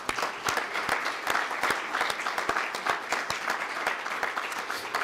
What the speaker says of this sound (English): So maybe the EAG and the Secretariat will give the citizens a round of applause.